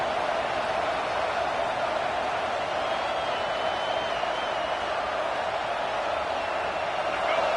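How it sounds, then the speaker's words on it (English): Football stadium crowd roaring in a steady, broad wash of noise, distant and moderately loud, without a break for the whole stretch. "This crowd bringing the energy and noise early."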